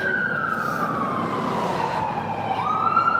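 A loud emergency siren wails steadily close by in downtown Toronto, its tone sliding down and back up over traffic rumble, with no talking.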